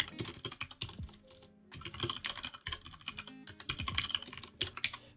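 Rapid computer keyboard typing, a dense run of close clicking keystrokes in uneven bursts with short pauses between them.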